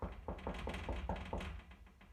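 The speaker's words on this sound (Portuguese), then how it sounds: "Pedro continuou batendo na porta." Knocking on a door, a steady series of about six or seven evenly spaced, moderately loud knocks over a low background hum.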